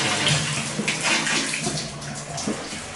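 Water gushes steadily from a tap into a bathtub in a condo bathroom, a loud, continuous rushing splash filling the whole stretch with no talking.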